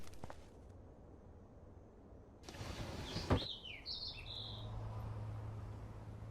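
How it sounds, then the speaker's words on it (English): A trapped bird chirping indoors in the Life is Strange video game, with a few short, faint tweets after a brief rustle, over a quiet room hum. "that poor little bird has been trapped in here"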